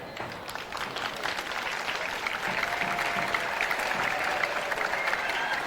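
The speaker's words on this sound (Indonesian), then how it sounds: "Tepuk tangan." Crowd applause at the opening ceremony of a school arts and sports event, sustained clapping that swells and holds steady for several seconds, with faint voices mixed in.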